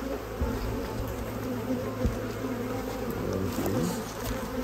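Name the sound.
honey bees buzzing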